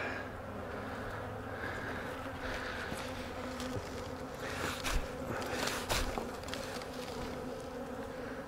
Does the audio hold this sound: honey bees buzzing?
yes